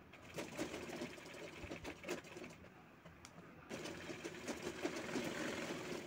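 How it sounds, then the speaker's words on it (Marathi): A sewing machine double-stitching the sleeve seam of a brocade silk blouse, running in a steady fast close whir with a brief slowdown midway, then continuing at speed. "त्यानंतर आपण डबल टिप टाकत आहोत त्यावर."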